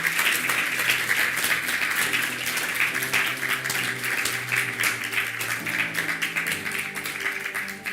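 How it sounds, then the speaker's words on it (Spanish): A church congregation claps together in a strong, steady rhythm during a Sunday service, with musical tones sustained underneath. "Dale un fuerte aplauso al Señor"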